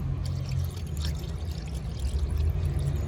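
Long-life red coolant pours steadily into a car radiator, a continuous close liquid gurgle and trickle with no talking.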